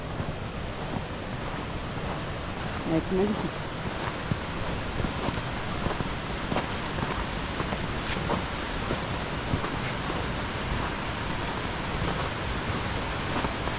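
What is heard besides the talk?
mountain waterfall in snow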